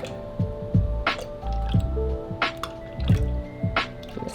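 Liquid egg whites pour from a carton into a blender jar sitting on a kitchen scale, giving soft wet glugs and drips in short repeated bursts, close and fairly quiet.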